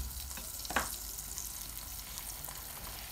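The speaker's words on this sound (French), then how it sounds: "On fait chauffer la poêle. On va poser notre galette dessus." A galette cooks in a hot pan with clarified butter, producing a soft, steady hiss with one brief louder crackle and no voices.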